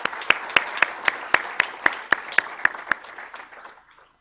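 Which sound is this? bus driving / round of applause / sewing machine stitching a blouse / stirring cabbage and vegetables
round of applause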